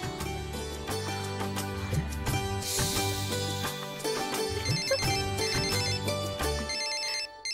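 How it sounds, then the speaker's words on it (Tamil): A melodic phone ringtone plays loud and continuous for several seconds, signalling an incoming call, its repeating musical tones filling the scene with no talking over it. "திடீர்னு எனக்கு போன் பண்ணிருக்க மாலதி"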